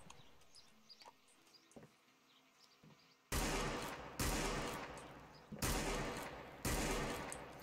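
Gunfire from a gun in the Roblox Wild West game: four loud, sustained bursts of shots in quick succession after a quiet stretch of faint game ambience.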